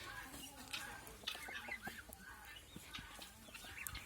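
Male and female guinea fowl calling in a noisy chorus of harsh, repeated cries in a poultry yard, with chickens clucking nearby and faint voices in the background.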